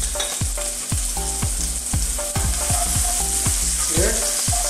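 Chopped onion sizzles steadily in a hot pan for a Filipino pork and squash sauté, with repeated soft knocks and scrapes from stirring.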